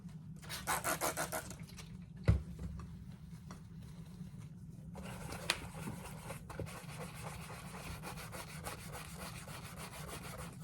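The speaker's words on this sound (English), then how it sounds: "I don't know if I need maybe a heavier scrub brush" A scrub brush works over a dirty vintage Craftsman leather tool pouch with quiet rhythmic rubbing strokes, faint and close, with no talk.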